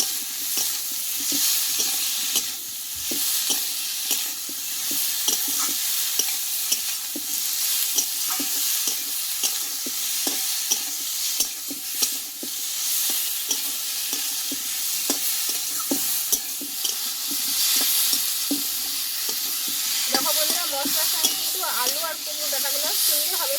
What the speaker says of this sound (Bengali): আরও কিছুক্ষণ আমি কুমড়ো ডাটা আলুটা কষিয়ে নেবো